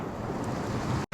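Rushing flow of the Milti Khola, a mountain river in Dolakha, Nepal, heard as a close, steady broadband wash that cuts out briefly just before the end.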